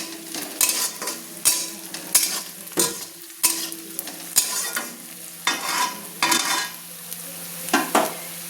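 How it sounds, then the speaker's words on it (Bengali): Onions sizzle as they fry red in a pan for a spicy chicken dish, with a spoon scraping and stirring in a steady, rhythmic series of loud strokes. "পেঁয়াজগুলো লাল লাল করে ভাজা হয়ে গিয়েছে"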